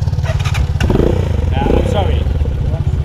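A motorcycle on a rough forest track in Madagascar starts and revs close by, its engine chugging in a rapid pulsing rhythm while people talk over it.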